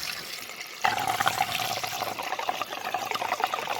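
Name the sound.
water pouring through a funnel into a car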